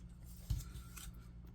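One quiet, close snip of scissors cutting paper while trimming a piece for a lilac paper-craft folio, over a soft low hum.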